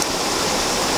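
Close, continuous hiss and rush of a clear mountain stream flowing during the rainy season, steady and even throughout with no voices.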